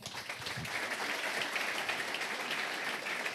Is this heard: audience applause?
yes